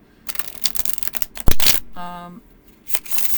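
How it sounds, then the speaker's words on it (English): Tarot cards from an Everyday Witch deck shuffled by hand, a few quick riffling and sliding bursts with a sharp snap, close up, interrupted by a short voiced sound between them. "shuffling with these cards should be very smooth"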